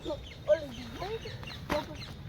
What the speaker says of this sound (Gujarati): કેટલા બધા પોપટ બોલે